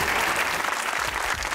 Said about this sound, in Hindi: तालियां मारो, तालियां